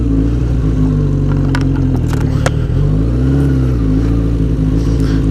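A sport bike engine drones loudly and steadily up close while riding, its pitch rising and falling slightly with throttle changes under heavy wind noise, with brief clicks and no talk.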